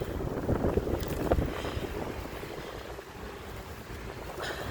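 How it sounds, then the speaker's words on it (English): Strong wind gusts roar and buffet the microphone outdoors in a home vegetable garden, a continuous rushing noise throughout. "Ooh, very windy."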